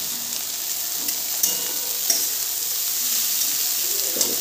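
Kolmi greens hit hot oil in a pan with a steady, close sizzle and frying hiss, a few small pops and stirring scrapes breaking through, and no voices.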